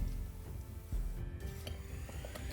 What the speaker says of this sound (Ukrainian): Постійно перемішуємо і після закипання варимо ще 5-7 хвилин.